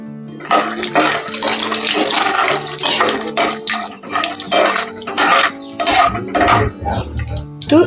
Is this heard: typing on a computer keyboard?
no